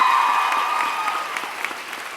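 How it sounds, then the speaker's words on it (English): Applause from a crowd at an opening convocation, brisk dense clapping that starts loud and tapers slightly over a couple of seconds. "Give her some applause."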